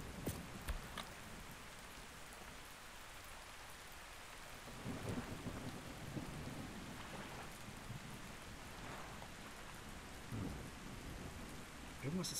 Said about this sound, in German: Oh, der Gewitter, schön.